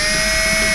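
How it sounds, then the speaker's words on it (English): Power drill boring out old rivets on a 2003-2009 Toyota Prius fuel door, a steady loud high whine with a strong sustained tone throughout, heard up close with no talking. "you want to take your drill bits and drill out these old rivets"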